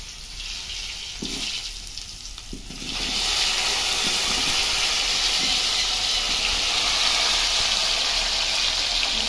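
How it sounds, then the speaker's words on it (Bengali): Potatoes tipped into hot oil left in a pan after frying rohu fish, bursting into a loud, steady sizzling hiss about three seconds in that keeps going with no voices. "তারপরে ওর মধ্যে আমি আলুগুলো দিয়ে দিলাম।"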